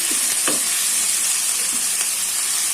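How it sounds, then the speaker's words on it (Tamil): Chopped tomatoes with coriander leaves sautéing in a pan for village-style tomato rice give a steady, close sizzle and crackle, with a few brief stirring scrapes; no one speaks. "இந்த தக்காளி நல்லா வதக்கிக்கலாம்"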